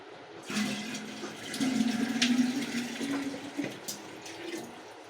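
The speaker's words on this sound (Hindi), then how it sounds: "चलो पहले पानी भर लेते हैं।" Water pours from a steel tank into a clay pot in a steady gushing stream that rises and settles over a few seconds, close and alone.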